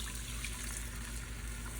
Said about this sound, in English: I'm gonna pour about 1 cup of water into my pan.